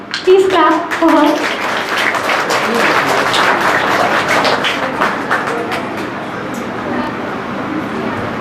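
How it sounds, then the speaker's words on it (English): A school prize-distribution audience breaks into applause after a brief spoken line, the clapping swelling to a dense, lively burst and then tapering off. "Please clap for her."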